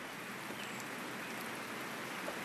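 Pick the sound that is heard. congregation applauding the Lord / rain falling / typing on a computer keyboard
rain falling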